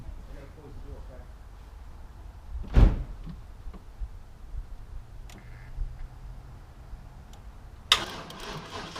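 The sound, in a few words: door being closed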